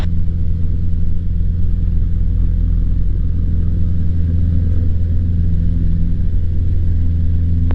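Cessna light aircraft engine runs at full throttle on the takeoff roll, a loud, constant low droning hum with steady harmonic tones and no pauses, close up inside the cockpit.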